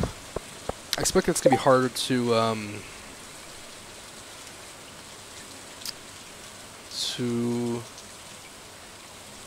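Rain falls in the video game Stardew Valley as a soft, steady, even hiss running throughout, with a voice talking briefly over it near the start and another short vocal sound later.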